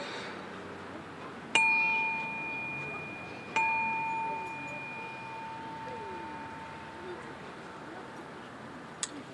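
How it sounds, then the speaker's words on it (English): A bell is rung twice at a racial justice march in Falmouth. Each sharp strike leaves a clear ringing tone that slowly fades against a quiet outdoor background. "I'm going to ring the bell again."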